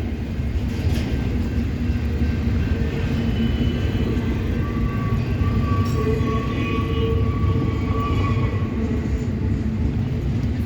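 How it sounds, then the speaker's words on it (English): Norfolk Southern and CSX freight trains roll past in Homestead with a continuous heavy rumble and rattling railcars, punctuated by faint squeals of wheels on rails throughout. "Thought I was hearing two trains."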